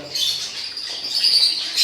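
A young budgerigar chick, a blue opaline, chirps in a thin, high, continuous twitter while held in a hand, close and fairly loud, without speech.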